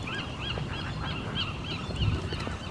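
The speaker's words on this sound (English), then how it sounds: "And there's a lot of birds living out here." Seabirds on Alcatraz Island, a rocky island with a prison and lighthouse, call repeatedly in a steady chorus of honking, goose-like cries over constant wind and surf noise outdoors.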